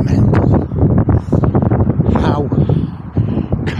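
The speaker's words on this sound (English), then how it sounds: "It just seems more windy because it's open terrain here." Strong wind gusting across an open valley basin in stormy weather, a constant loud roar buffeting the microphone, with people talking throughout over the blustery noise.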